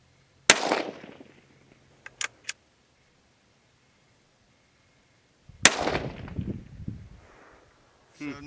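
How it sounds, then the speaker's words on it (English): Two sharp rifle reports from a Winchester chambered in 17 HMR firing at a 100-yard target, each a loud crack with a decaying tail, spaced about five seconds apart, with faint clicks between them. "So now we're trying out the Winchester at 100 yards with the .17 or 17 HMR"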